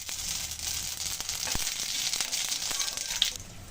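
Radhuni seeds dropped into hot oil for tempering give a steady soft sizzle with a few faint clicks and pops, heard alone with no talk.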